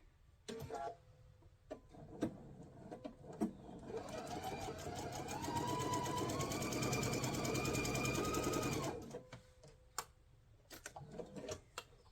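A sewing machine stitches a quilted Rocky Mountain table runner, running steadily and loud for several seconds in the middle, with brief starts and stops, clicks and handling noises before and after.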